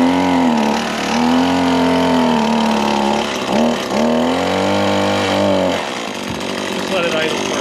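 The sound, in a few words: pull-start engine starting and idling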